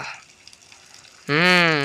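Manchurian balls deep frying in hot oil give a low, steady sizzle for over a second before a loud voice starts talking over the bubbling.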